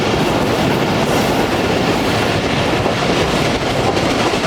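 The Tezgam passenger train on its overnight run from Karachi to Khanpur rolls along the tracks with a loud, steady roar of wheels and carriage rumble, heard from inside the train, continuous and close with no voices.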